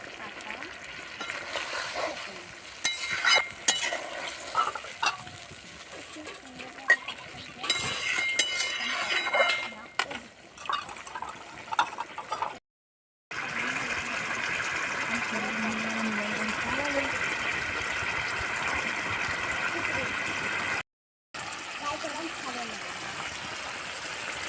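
Brinjal curry in a pan with a little water added: clinks of a utensil against the pan and stirring, then a steady bubbling simmer close up, broken by two brief silent gaps.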